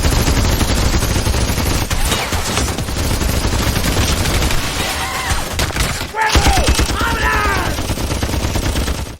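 Heavy-calibre gunfire sprayed wildly at a building in an action film: dense, loud rapid bursts with impacts and shattering debris, and brief shouted voices breaking through the barrage.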